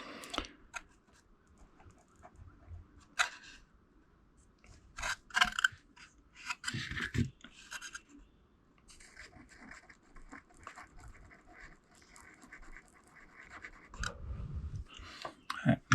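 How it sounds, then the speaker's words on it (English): A soldering iron tip rubs around on a li-ion battery cell, giving close, intermittent scratchy rasps and scrapes with quiet gaps between them. "I can rub the soldering tip around"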